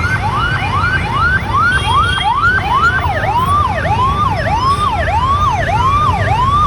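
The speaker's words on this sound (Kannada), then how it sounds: "ಪ್ರಾಣವನ್ನು ಉಳಿಸುವ ಆಂಬುಲೆನ್ಸ್ ಹೇಗೆ ಹೋಗ್ಬೇಕು, ಹೇಗೆ ಬರ್ಬೇಕಾಗುತ್ತೆ ನೋಡಿ" An ambulance stuck in a traffic jam sounds its siren nearby. The wail sweeps up and down steadily and repeatedly, then switches to a faster, rising-falling pattern over constant traffic rumble.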